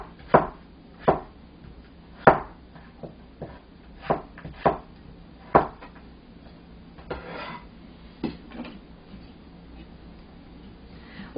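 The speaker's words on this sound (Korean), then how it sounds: "자, 그럼 야채 먼저 썰겠습니다." Knife slicing peeled carrot into 1 cm pieces on a cutting board, a series of sharp separate chops at an uneven pace, close and distinct over a quiet background.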